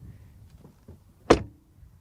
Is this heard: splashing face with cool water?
no